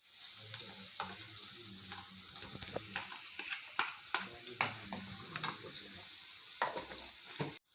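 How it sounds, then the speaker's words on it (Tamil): Onions with curry leaves sizzle and crackle in a hot pan for roadside-style masala puri while a utensil stirs and scrapes now and then, soft and close. "இப்போ நம்ம நறுக்கி வச்ச வெங்காயத்தை உள்ளே சேர்க்க போகிறோம்"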